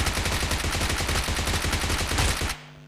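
Rapid automatic gunfire in PUBG Mobile (BGMI), knocking down an enemy who steps into the open by a warehouse. It sounds as a loud, dense burst of shots lasting over two seconds, then cuts off abruptly to a faint tail.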